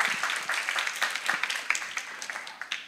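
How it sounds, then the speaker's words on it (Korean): Church congregation applauding, a burst of clapping with many distinct hand claps that rise quickly and then thin out toward the end, fairly close in the hall. "다시 한번 격려의 박수 부탁드립니다"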